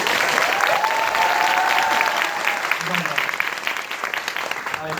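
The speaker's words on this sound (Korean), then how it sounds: "박수 한번 주세요!" Theater audience at a post-show talk event clapping, a loud dense wave of applause that gradually thins, with voices speaking over it.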